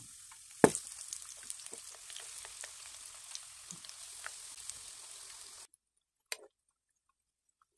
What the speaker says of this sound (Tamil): இப்போ நம்ம மீடியம் ஃப்ளேமில் நம்ம ஃப்ரை பண்ணி எடுத்துக்கலாம்.